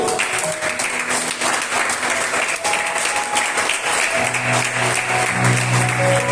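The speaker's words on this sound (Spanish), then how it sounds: "Cuando un aplauso por eso, aleluya." A church congregation claps steadily in sustained applause, with a faint voice and music tones coming in toward the end.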